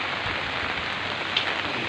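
Steady rain hisses down, heard from under umbrellas, a dense continuous patter with no voices.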